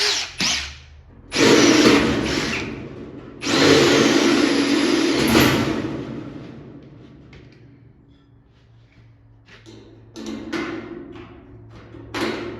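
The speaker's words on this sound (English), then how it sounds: "So I guess we'll be going up to the 3/8 drill bit." A 3/8 bit drills through sheet metal on a 60 gallon air tank. A power drill whines in two loud bursts, then falls to a quieter hum with a few short, faint pulses near the end.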